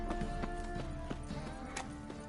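Horse hooves clip-clopping in The Witcher: Wild Hunt, a steady trotting rhythm of sharp knocks over a continuous ambient bed, with a neigh mixed in, moderately loud.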